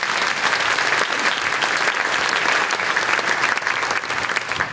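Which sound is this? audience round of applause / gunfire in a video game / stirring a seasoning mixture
audience round of applause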